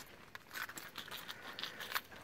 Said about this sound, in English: find the right keys.